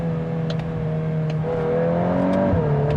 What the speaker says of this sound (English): It has some cracks and burbles and pops from the exhaust.